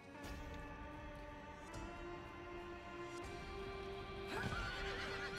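A horse mount in the video game Diablo 4 neighs and whinnies in drawn-out tonal calls while hooves clip-clop underneath, with a louder burst near the end over steady game ambience.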